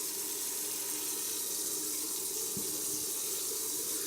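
Very cold softened water running steadily from a tap into a bathroom sink, a constant close hiss and splash with no voices.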